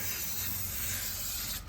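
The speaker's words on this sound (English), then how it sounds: "Actually, I'm going to spray down in here." A steady, close hiss of a spray nozzle as cleaner is sprayed inside a car runs continuously for over a second, then cuts off abruptly at the end.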